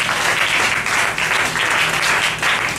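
A church congregation applauds steadily and loudly throughout a dense, continuous round of clapping at a French-language prayer service, with no voices rising above it.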